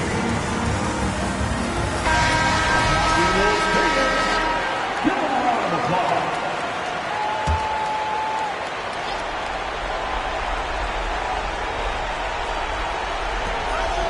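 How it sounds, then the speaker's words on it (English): Crowd applause rises over a basketball arena's murmur during a playoff game, then fades into background chatter and noise, with an announcer speaking over it. "Please give a big round of applause for your Hornets Utah team."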